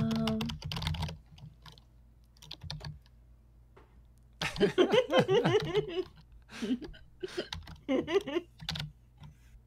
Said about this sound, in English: So yeah, you'll have to type it again.